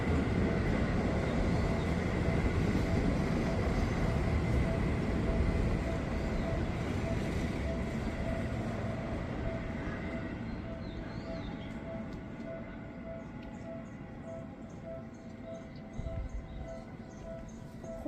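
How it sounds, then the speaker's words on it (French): A loud, steady rumbling roar of a train rolling past close by, gradually easing and thinning toward the end. "Ça a dû être un train Harry Potter."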